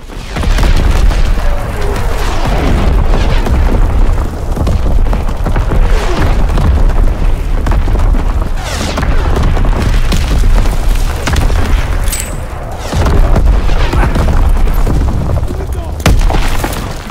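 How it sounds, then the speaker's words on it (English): Incoming enemy artillery shells burst repeatedly in Call of Duty WW2, loud deep booms and thuds rolling one after another across the whole stretch, with voices heard amid the barrage. "Incoming enemy artillery! Get to cover!"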